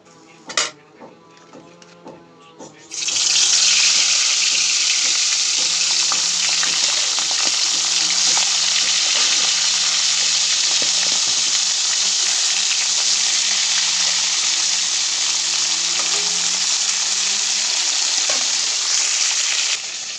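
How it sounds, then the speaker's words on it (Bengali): Fish sizzles and spits loudly in hot oil in a pan, a steady bright hiss running almost the whole time after a few quiet kitchen clinks at the start. "এপাশে মাছ ভাজা চলতেছে।"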